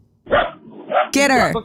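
Outdoors, a dog barks at a deer: one loud, close, strained bark or yelp rings out near the end, right after someone speaks a couple of short words.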